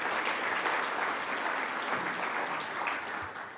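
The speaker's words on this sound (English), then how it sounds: "I ask that you please join me in giving them a round of applause as well" Conference audience at the International Churchill Conference 2024 applauding its sponsors, a dense even wash of many hands clapping that holds steady and then tapers off slightly near the end, with no voices over it.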